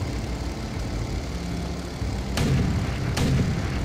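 An aircraft engine drones steadily in Empire Earth, a low, rough propeller roar that grows slightly louder partway through and is broken by two sharp cracks near the end, with no talking.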